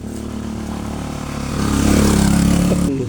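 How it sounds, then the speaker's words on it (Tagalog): A scooter engine approaches and passes close by, its buzzing drone swelling to a peak midway and then fading as it moves off. "Ito, tatabi tayo, may dadaan scooter."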